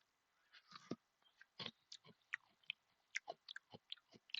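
Close, quiet crunching and nibbling of a soft-edged, crunchy jelly-filled donut, a series of irregular bites and chews with short crisp crackles and no talking.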